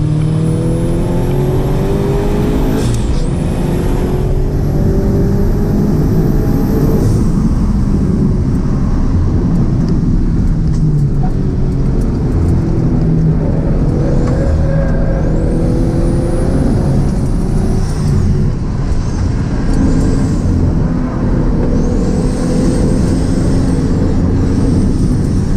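Turbocharged Toyota GT86 show car on air suspension accelerating hard through the gears, loud close engine roar rising in pitch with each gear and dropping at shifts, continuous for the whole stretch with no talk.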